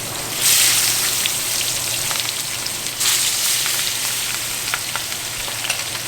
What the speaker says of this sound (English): But you wanna hear that good